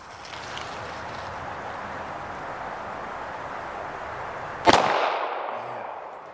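A single loud gunshot from a switch gun with a very heavy trigger cracks out over steady outdoor background noise, followed by a short echoing decay.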